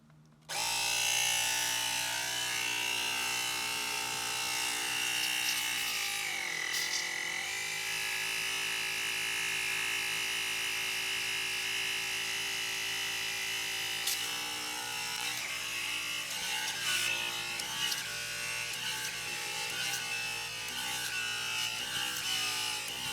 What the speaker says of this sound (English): I'll get this ball pump plugged in and start pumping the balls